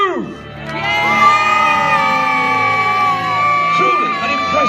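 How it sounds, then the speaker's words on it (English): Crowd at Warwick Castle cheering and whooping for the trebuchet crew, a sustained loud roar of mixed voices including children's shouts, holding steady for several seconds. "Can I hear the biggest, loudest cheer that you can muster for our trebuchet, Mr. Charlotte and her crew?"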